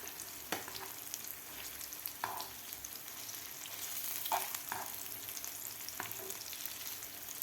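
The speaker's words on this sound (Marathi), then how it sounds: "मिडियम गॅसवरच आपल्याला हे चिकनचे पीस तळायचे आहेत." Chicken pieces fry in a small amount of oil over a medium gas flame, a steady crackling sizzle broken by a few sharper pops and the odd scrape as pieces are turned, with no talk.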